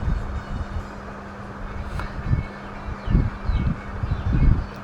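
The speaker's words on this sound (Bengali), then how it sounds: "মেট্রোল চলে আসছে" A metro train arrives in the video game Free Fire, a steady mechanical rumble with a low hum and irregular thumping clatter that swells toward the end.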